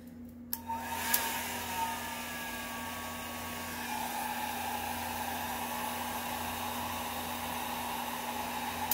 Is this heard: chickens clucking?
no